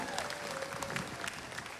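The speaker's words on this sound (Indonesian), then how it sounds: "Tepuk tangan buat Umi Abizar." An audience at a televised Indonesian tribute music event, Nada dan Cinta untuk Uje, claps steadily for Umi Abizar, a dense wash of hands lasting under two seconds with a faint tonal hum running beneath it.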